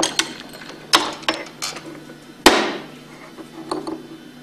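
A bearing is pressed into a Hypro roller pump with a bearing tool, giving a few sharp metallic clicks and knocks close by, with one louder knock midway that rings out briefly. No one speaks.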